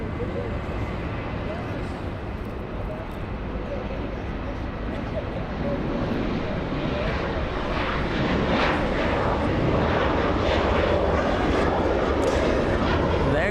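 A Lufthansa Airbus A380 passes at LAX with a broad, steady jet roar that slowly builds in loudness, heard from a distance with people talking over it.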